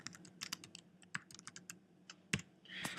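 Quiet keystrokes on a computer keyboard while an event description is entered in a photo app, irregular bursts of clicks with brief pauses, one firmer tap near the end.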